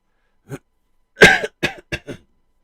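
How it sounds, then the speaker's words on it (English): A person coughs a few times up close, one harsh hack followed by shorter throat-clearing coughs, with silence around them. "Sorry about the hacking and coughing."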